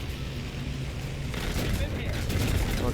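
Rapid .50 cal machine gun fire in War Thunder, from an M24 tank battle, breaking out about a third of the way in as a dense, sustained roar of shots over a steady background, with voices talking.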